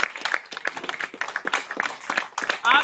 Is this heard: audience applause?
yes